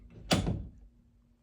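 Indoor door swinging open on its own: one short, close creak and scrape that peaks sharply and then fades quickly into a low hum.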